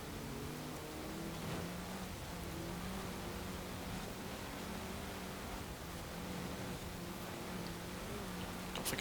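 Ford rally car engine in the Forza Horizon 4 video game on an ice rally, a steady droning motor hum with faint shifts in pitch under a broad wash of road and wind noise, fairly quiet and continuous.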